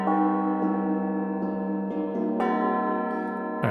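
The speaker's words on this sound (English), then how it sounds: "Let's check out the gongs." Meditative gongs ring out from a percussion sample library, a few struck tones layering into long, shimmering sustains, with a brighter fresh strike near the end.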